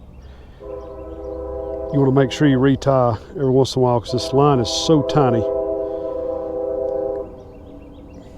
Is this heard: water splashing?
no